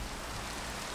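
Steady rain falling in Minecraft, a dense even hiss of drops with no breaks or other sounds across the short stretch.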